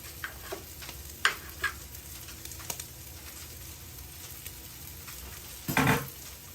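An egg fries in a pan for egg and mussel fried rice, a soft, low sizzle with a few light taps and a louder clatter of utensils near the end.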